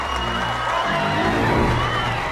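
A beauty pageant audience cheers and applauds in a loud, continuous roar of clapping and whoops, with voices rising above the din.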